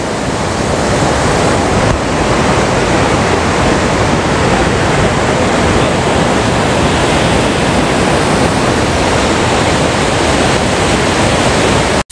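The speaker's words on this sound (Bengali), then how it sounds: "এত জোরে জলটা পড়ছে, কথাই শোনা যাচ্ছে না।" Lodh Falls pouring down with a loud, unbroken roar of crashing water, dense and steady throughout, close enough to drown out everything else.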